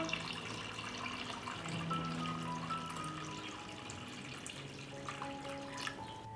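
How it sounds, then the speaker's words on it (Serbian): Water is poured into a cooking pot holding glass jars on a cloth, a steady close splashing flow that continues throughout without talk. "Sipam vodu u šerpu do visine poklopca."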